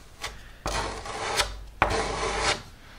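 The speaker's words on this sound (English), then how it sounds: "I'm just using my trusty two-part filler to smooth over" Two-part filler is scraped across a moulded door with a continental filler knife in a few long rasping strokes, close and distinct, with short pauses between passes.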